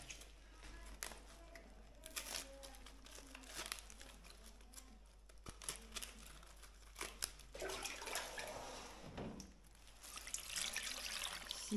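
Water runs from a kitchen tap while Napa cabbage is washed by hand, with crinkling leaves and splashing trickles, faint and close in a home kitchen.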